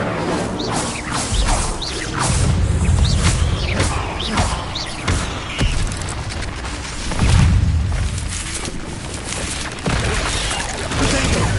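Spellcasting in Hogwarts Legacy, including the Incendio fire spell, loud whooshing bursts and booming crashes in quick succession with thuds and swishes throughout, no clear talk.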